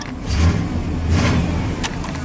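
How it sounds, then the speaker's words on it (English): A '96 Chevy K2500 V8 pickup running lean idles steadily up close, a smooth low engine drone with slight swells and no talk. "The truck runs super smooth, it's even bank to bank."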